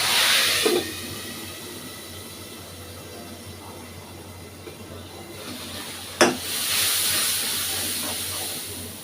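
Masoor dal lentils tipped into a hot pan with dal spices give a steady background hiss, then a sudden sharp burst of sizzling that keeps going loudly afterward.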